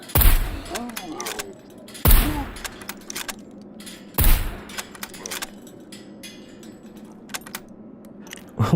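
Three suppressed gunshots from the video game SCUM fire about two seconds apart, each a sharp muffled crack, with small metallic clicks and rattles between them.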